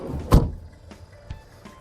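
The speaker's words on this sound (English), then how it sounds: "I've opted for the extra cost sliding side door here" A sliding side door on a 2008–2015 Citroen Berlingo van gives one close, solid thunk as it shuts. A few fainter knocks and rattles follow.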